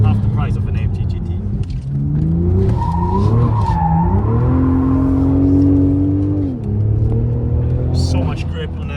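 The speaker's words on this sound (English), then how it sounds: "So much grip on the rear axle, but still slides very easily." A BMW Z4 slides at its limit with tires squealing over a loud, droning engine note that rises and holds, the squeal and rumble continuing for several seconds.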